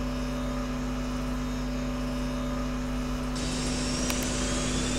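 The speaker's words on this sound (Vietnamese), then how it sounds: "Đã nghe thấy âm thanh khởi động động cơ chính." MiG-21 jet main engine starting up, a steady loud mechanical roar and hum that gains a sharper high-pitched whine partway through, with no voices.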